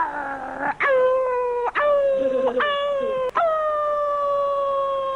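A person imitates a wolf with a series of long, sliding vocal howls that break and restart several times, close and loud, with no other sound behind them.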